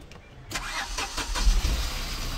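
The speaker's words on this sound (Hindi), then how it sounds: "एक बार एक गाड़ी को स्टार्ट करना है" A Tata Nano car engine with a coolant leak and overheating problem cranks briefly and catches, settling into a steady close-up running rumble.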